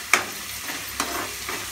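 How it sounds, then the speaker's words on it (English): Curry leaves crackle and fry in a hot pan for palak paneer, with a sharp spatter at the start and a few stirring scrapes over a steady sizzle, close and clear. "Add some curry leaves."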